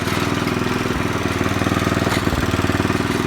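A Honda ridging tractor's small engine running close by, a loud, steady, rapid chugging idle that continues throughout without any pause.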